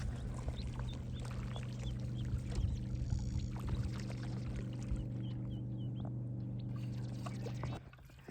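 Steady low hum with soft repeated canoe paddle strokes from a kneeling paddler and water dripping on Quinn Creek, birds chirping faintly in the background.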